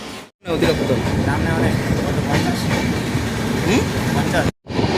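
A passenger train runs steadily toward Kishanganj on the Dalkhola to Siliguri line, a continuous loud rumble with rail clatter and brief squeals, sharply cut by short gaps near the start and end.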